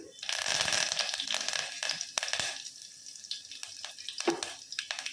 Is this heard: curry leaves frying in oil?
yes